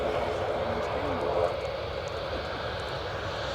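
A large four-engine propeller plane, similar in size to a Hercules, drones overhead outdoors in a steady, broad rumbling hum, with voices talking faintly underneath.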